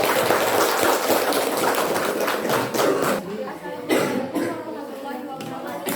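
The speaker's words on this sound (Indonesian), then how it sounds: "Beri aplaus, tepuk tangan untuk kelompok" Students at a university class presentation at Universitas Palangkaraya applaud a group, producing a dense patter of clapping for about three seconds before it fades and a voice begins speaking.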